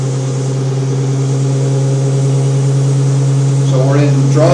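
ZF automatic gearbox in an EV conversion, Arduino-controlled, running steadily as it is shifted into drive and first gear: a constant electric-motor hum with whine, rising in pitch near the end, close and loud.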